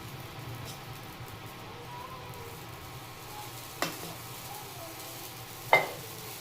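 Curd dosa batter cooks quietly on a small hot pan with a soft, steady sizzle, broken by two brief clicks of a utensil against the pan.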